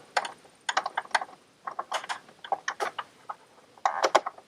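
Tools work on the PTO switch housing of a John Deere GX325 mower, producing a series of close, crisp clicks and ratcheting ticks in irregular bursts with brief pauses between them.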